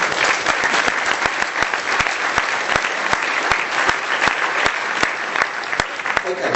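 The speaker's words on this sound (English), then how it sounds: "Give them a round of applause" Audience applause at a competition showcase of devices, a dense, sustained wash of clapping from a sizable crowd with crisp individual claps cutting through, loud and continuous throughout.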